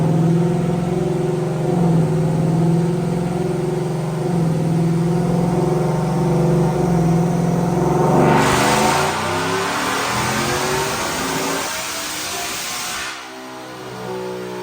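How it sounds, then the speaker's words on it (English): A 2024 Ford F-150 with a Whipple supercharger, running E85 with long-tube headers, revs hard on a dyno, its engine climbing steadily in pitch and roaring loud and close before a sharp surge and cut-off near the end. "Check out this dyno pull."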